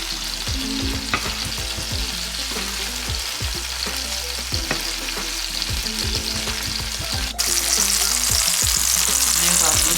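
Tomatoes blistering in a hot pan with balsamic vinaigrette, a steady loud sizzle and crackle with occasional utensil scrapes, the frying noise swelling brighter near the end.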